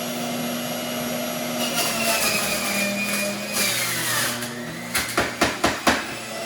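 A kitchen juicer whirs loudly as it processes celery for a green juice, its motor droning steadily before a cluster of five quick, sharp knocks near the end, with no talk.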